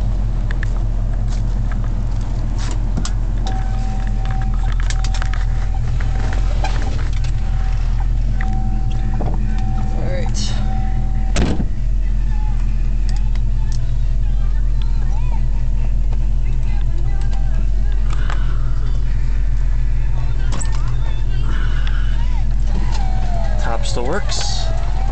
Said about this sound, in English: Idle's at about 800 RPM.